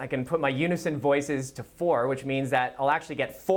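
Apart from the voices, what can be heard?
No everyday noise stands out behind the speech.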